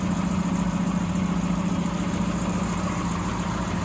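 A 1934 LaSalle Sedan's engine idles steadily after a cold start, a close, even, continuous hum with a low throb and no voices.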